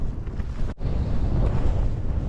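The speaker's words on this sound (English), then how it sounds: "the wind's really strong. Tent's taking a right battering." Strong wind batters a small tent during a night storm, a loud continuous roaring rumble of gusts against the fabric and microphone, with one brief lull partway through and no talking.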